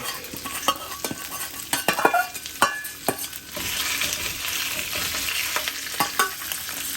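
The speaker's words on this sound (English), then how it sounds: "Once this has come up to a little bit to heat, it doesn't have to come to full heat, I put in the shrimp" Shrimp stir fry in warm oil, with a spatula clattering and scraping in uneven strokes over a loud, close sizzle. Partway through, the frying swells into a dense, continuous crackle.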